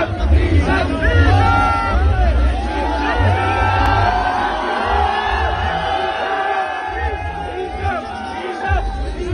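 A large stadium crowd at a cricket match shouts and whoops in a dense, continuous roar, with loud calls rising above the general babble.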